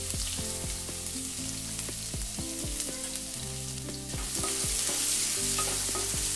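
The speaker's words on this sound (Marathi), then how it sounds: "थोडं जिरं, इथे लसूण घालते ठेचलेला," Cumin and crushed garlic fry in hot oil with mustard seeds as a tempering for multigrain chiwda. A continuous close sizzle runs throughout, mixed with some clear tonal sounds.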